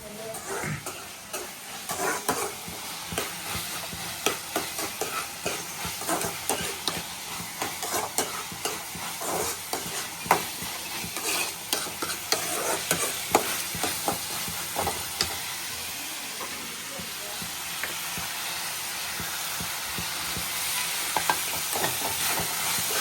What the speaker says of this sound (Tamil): அடுத்து வந்து கருவேப்பிலை பச்சை மிளகாலாம் போட்டு நல்லா வதக்கிட்டு இருக்காம